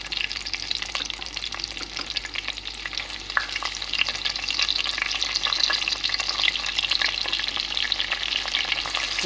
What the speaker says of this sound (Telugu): కొంచెం వేగిన తర్వాత పచ్చిమిర్చి 2 ఉల్లిపాయలు కట్ చేసి వేసుకున్నామండి.